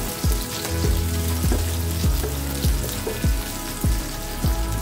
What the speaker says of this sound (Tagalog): At isunod naman natin ang ating sibuyas pula, 2 piraso.